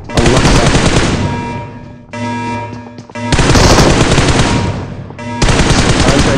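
Loud, close automatic gunfire in the battle royale game PUBG Mobile, with long rapid bursts broken by short pauses, the second burst quieter and more distant.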